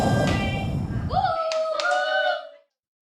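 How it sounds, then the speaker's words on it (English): Hand clapping at a birthday party, fairly brief and mixed with a burst of noise and a rising tone before everything cuts to silence. "Clap your hands, everybody!"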